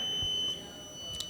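A team presses a quiz buzzer during a quiz round, giving a steady electronic tone that lasts about half a second, with a short sharp beep at the end and voices faintly in the background.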